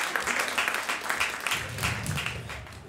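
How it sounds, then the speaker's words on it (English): Audience applause at a student union question-time session with officers, a steady wash of clapping from a room full of people lasting the whole moment, moderately loud with faint voices mixed in. "Let's get a round of applause."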